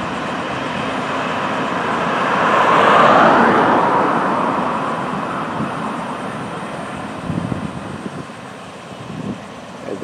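An FEC freight train rolls south along the East Main line on a summer evening, a broad steady rumble and rail clatter that swells to its loudest around the middle, then eases into lighter rattling and a few sharp clanks.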